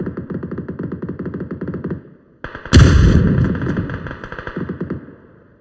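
Shooting video game gunfire: a rapid, rhythmic burst of automatic shots, a short pause, then a loud, booming blast that rings out and slowly fades, with more rapid fire coming back near the end.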